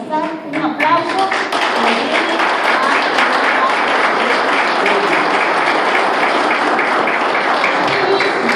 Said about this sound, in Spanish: Con nosotros, el señor Manuel Salazar, un aplauso.